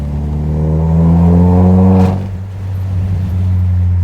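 A Citroën DS5 THP fitted with a downpipe and straight exhaust revs loudly up to a held high pitch, then drops back to a deep, steady idle rumble, close to the car with no talking.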